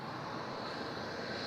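Jetstar airliner landing on runway 27 at Melbourne Airport, a steady broadband jet roar held at an even level throughout the short stretch, with no voices over it.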